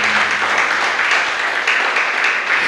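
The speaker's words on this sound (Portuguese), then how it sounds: "Você pode aplaudir ao Senhor em nome de Jesus?" A church congregation applauds together, a dense, loud, steady wash of clapping from many hands filling the room without pause.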